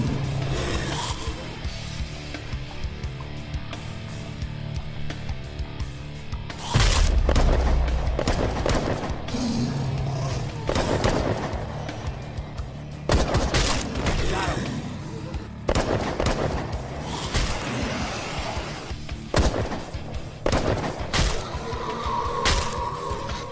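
Bursts of heavy suppressing gunfire in an action movie, loud sharp shots and rattling volleys spread irregularly over the scene, mixed with shouted voices and battle noise.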